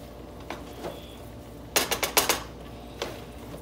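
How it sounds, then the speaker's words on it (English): Vegetable fried rice being stirred in a pan, a run of quick scraping, clinking strokes of utensil against metal clustered together, with a few lighter isolated taps before and after. "and continue to stir"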